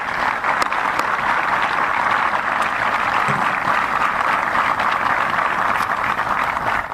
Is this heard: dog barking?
no